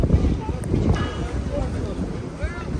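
Cold wind blowing across a mountain top at the Gulmarg Gondola summit, a steady low rumbling buffet on the microphone with gusty swells throughout.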